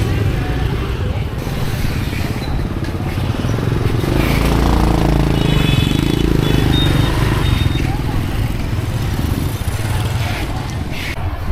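Motorcycles pass in a busy Ho Chi Minh City street, a dense close drone of small engines that swells and fades as bikes go by, with traffic noise throughout and a voice talking over it.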